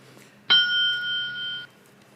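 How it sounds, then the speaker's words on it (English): A single bell rings at a school board meeting to signal the end of a speaker's time, a clear sustained ding that sounds once and rings for about a second before cutting off. "I guess that was my bell."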